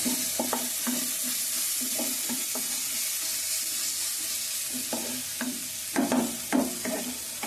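A raw cashew curry sizzles in a pan while a spoon stirs it, with a continuous frying hiss broken by repeated scraping knocks that cluster near the end.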